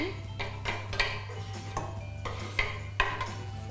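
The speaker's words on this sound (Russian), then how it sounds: "Курочку мы нарезали вот на такие мелкие кусочки и скидываем их уже в бульончик наш готовый." Small chopped chicken pieces drop into ready broth in a pot, giving a few sharp clinks and splashy knocks over a steady low background hum.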